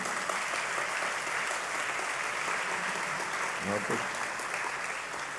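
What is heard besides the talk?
applause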